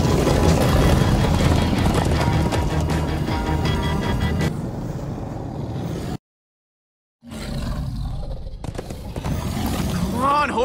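Rapid, rhythmic hoofbeats of galloping horses in Minecraft Story Mode pound loudly, then thin out, broken by a brief silence, with voices and game sounds mixed in.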